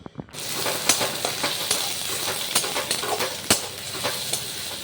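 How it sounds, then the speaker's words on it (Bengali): Onions sizzling in a pan as ghugni preparation starts, a continuous crackling fry broken by sharp scrapes and taps of a spoon stirring, close and fairly loud with no talk. "পেঁয়াজ ভাজছি"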